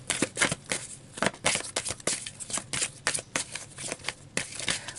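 A deck of tarot cards is shuffled close up in rapid, uneven bursts of crisp flapping and slapping, alone and fairly quiet, with no talk.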